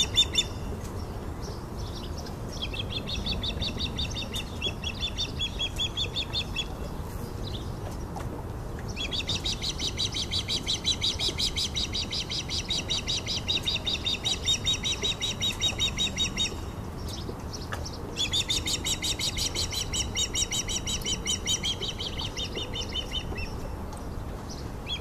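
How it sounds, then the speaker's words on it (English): A female osprey at her nest repeats high, rapid chirping alarm calls in long bursts separated by brief pauses, loud and close over a steady background hiss. "the female adopts an alarm posture and gives an alarm call when a male osprey who is not her mate flies near the nest"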